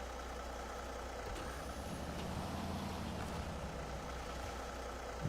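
A Kenworth truck in SnowRunner rumbles with a low, steady engine drone. A brief air-brake hiss and faint beeps sit over the constant, moderately loud hum.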